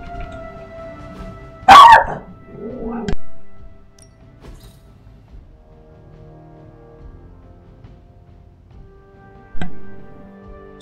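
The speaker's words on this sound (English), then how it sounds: "Dog barking." A dog barks sharply a couple of times nearby, then a lone bark comes later, with quiet background between.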